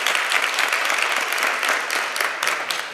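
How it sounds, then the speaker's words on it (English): Loud, dense applause fills the room at a STEM careers event, a continuous wash of many clapping hands with slight swells, close and unbroken for the full few seconds. "Please give her a round of applause."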